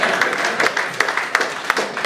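An audience at a power-sector dialogue event claps steadily for about two seconds, a dense wash of many hands with a few sharper individual claps standing out.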